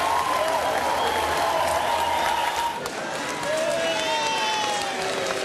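A large crowd of mourners outside Sydney Town Hall at the Gough Whitlam memorial claps and shouts as politicians arrive, a loud, continuous roar with whistle-like tones and voices mixed in.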